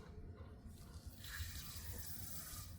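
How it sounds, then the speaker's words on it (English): Cleaning solution rushes steadily as it flushes through an HP 962 printhead, a continuous watery hiss that grows slightly fuller midway. "when I'm flushing out the cleaning solution"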